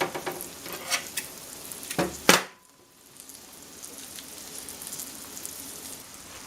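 Squash blossoms frying in a cast iron pan, a steady soft sizzle and crackle that runs throughout, broken by a few brief clinks and a sharp burst of spitting oil early on.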